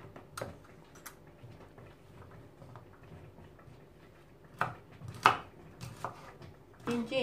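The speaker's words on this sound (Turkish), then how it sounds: "Doğrayacağım şimdi. Küçük küçük doğrayacağım." A knife chops fresh green beans on a board in short, irregular close taps, sparse at first and then a few sharper cuts, with faint kitchen clatter.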